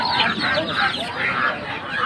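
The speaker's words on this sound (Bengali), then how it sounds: "এখানে দেখেন একটা খাঁচা দেখায়, এটা হচ্ছে মোরগের খাঁচা।" Roosters in a cage at the Fatullah pigeon market in Narayanganj cluck and squawk loudly and close by in overlapping bursts, with market voices mixed underneath.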